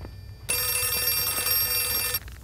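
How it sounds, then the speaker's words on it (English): A telephone rings in the Outlast 2 video game, one continuous loud bell-like ring lasting under two seconds, then stopping abruptly, with no talk over it. "answer the phone"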